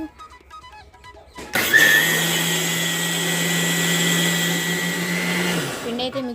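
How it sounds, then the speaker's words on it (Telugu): A mixer grinder whirs loudly and steadily for several seconds after switching on, grinding soaked ingredients with water, then winds down; faint activity beforehand. "మిక్సీ సెట్ చేసేసాను"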